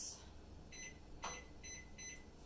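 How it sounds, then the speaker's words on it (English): Kitchen timer being set for lasagna, giving a few short, thin electronic beeps spaced about half a second apart over quiet room noise. "All right, set my timer."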